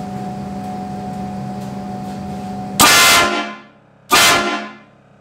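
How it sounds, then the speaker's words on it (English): A train horn fitted to a Duramax truck with airbags blasts twice in quick succession over a steady mechanical hum, both very loud and close, each blast cutting off with a decaying echo. "will the train horn still work?"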